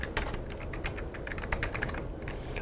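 Fingers typing text on a computer keyboard, a steady close run of crisp plastic key clicks at a quick irregular pace, alone without any voices.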